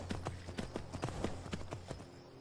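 Horse hooves clip-clop in a steady walking rhythm in the video game Skyrim, about a dozen crisp, fairly close strikes over a low constant hum.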